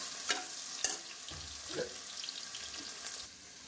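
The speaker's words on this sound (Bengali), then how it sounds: "তো এই তেলের ভেতরেই দিয়ে দিচ্ছি পেঁয়াজ।" Onions frying in hot oil for a biryani give a steady close sizzle with a few sharp stirring clatters and scrapes spread across the clip, and no talking.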